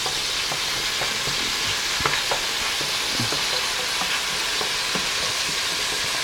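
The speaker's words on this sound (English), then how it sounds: "So we're gonna let that brown a little bit more in that bacon grease." Beef browns in bacon grease in a pan, giving off a steady, close sizzle with occasional sharper pops and stirring clicks across the whole stretch, and no talking.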